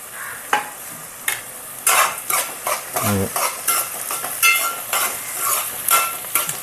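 Green chillies stir-frying in oil for a Godavari-style curry: a crackling sizzle broken by repeated scraping strokes of a spoon against the pan, close and fairly loud, with one deeper clunk partway through.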